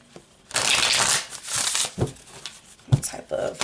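Love Oracle cards are shuffled close by in two papery, rustling bursts, followed by lighter handling noises, with a person talking alongside.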